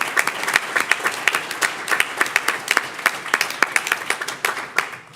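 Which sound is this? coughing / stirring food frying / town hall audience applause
town hall audience applause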